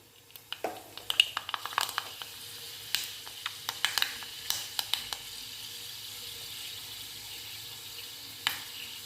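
Fenugreek seeds splutter in a hot pan, throwing out scattered sharp pops and crackles over a soft continuous sizzle, busiest early and thinning later with one late pop.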